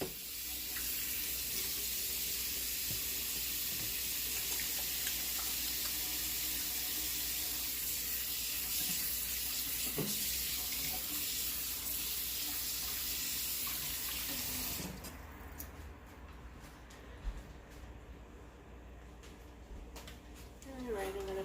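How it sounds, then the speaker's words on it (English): A kitchen tap runs steadily for handwashing, a loud continuous hiss of water that changes and drops in level partway through, with faint handling noises. "let me wash my hands"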